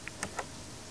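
Three faint, sharp keystrokes on a keyboard while a 16-bit multiplication program is typed in, spaced unevenly in a quiet room.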